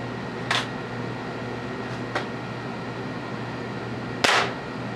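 An air gun fires 7.9 grain pellets through a chronograph, giving three sharp isolated cracks, the last loudest, over a steady low hum.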